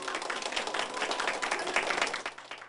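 Scattered applause at a hospital party celebrating a Guatemalan girl's recovery, a dense patter of many hands clapping at moderate distance, fairly quiet and continuous for a few seconds without voices.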